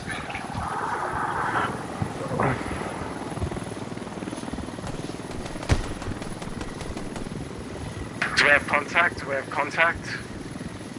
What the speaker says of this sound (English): I can't hear what you're saying, that this fucking heli's so loud.